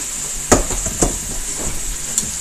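Vegetables and onions sizzle in a hot pan during a stir-fry, a steady frying hiss broken by a few sharp scrapes and clinks as the food is stirred.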